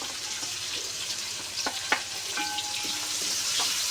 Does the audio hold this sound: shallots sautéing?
yes